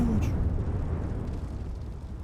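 A battlefield explosion in the Gates of Hell WWII game, Normandy conquest mod, booms at the start and leaves a long, heavy low rumble that slowly decays across the whole stretch.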